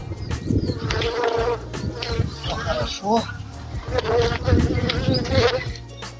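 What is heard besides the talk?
honeybees buzzing around beehives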